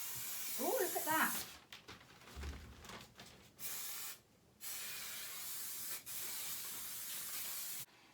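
An aerosol can sprays in several steady hissing bursts of a few seconds each, separated by short pauses, while working on a padded headboard; a voice speaks briefly at the start.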